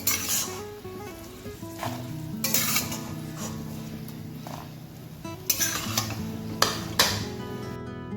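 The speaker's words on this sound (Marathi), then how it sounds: "आता खसखसलाही छान भाजून घेऊ" Poppy seeds being dry-roasted and stirred in a pan for sattu ladoos: a quiet sizzle under repeated scraping and clinking of a spoon against metal, with sharper knocks spaced through the stirring.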